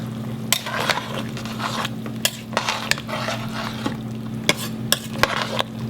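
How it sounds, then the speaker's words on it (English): A spoon stirs Jamaican beef soup in a pot, scraping and clinking against the metal in irregular strokes over a steady low simmering hum, close up and without any talking. "I'm going to give it a stir."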